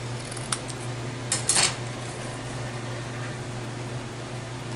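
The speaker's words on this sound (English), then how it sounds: "I'm going to cut the sides down just a hair." A pair of scissors trims fabric scraps in a few short snips, one near 0.5 s and a quick cluster around 1.5 s, fairly close, over a steady low room hum with no talking.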